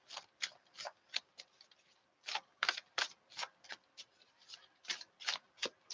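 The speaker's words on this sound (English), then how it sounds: "Let's do one more card for you, Shakoya." Reading cards being shuffled by hand during a tarot-style session, a steady series of quick, crisp riffling bursts close up, with brief pauses between them and no talking.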